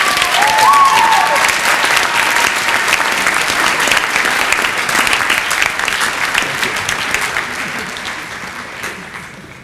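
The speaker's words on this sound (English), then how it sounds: "One more round of applause for our second year letterman." A concert audience at a high school spring orchestra event claps for second-year lettermen, loud dense applause at the start that gradually thins and fades toward the end, with a brief voice at the very beginning.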